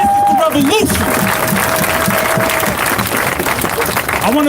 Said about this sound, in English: Give yourself a round of applause, y'all!